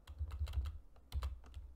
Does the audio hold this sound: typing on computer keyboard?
yes